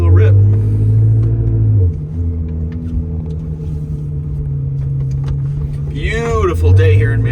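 A 2000 Ferrari 360 F1 Modena driving on a Michigan road on a warm late-fall day, its engine a low steady rumble from inside the cabin that swells slightly at the end, with someone talking over it throughout.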